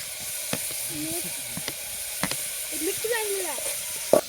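Chili hits onions frying in a pan, giving a soft continuous sizzle with a few sharp clicks of a utensil and faint music in the background.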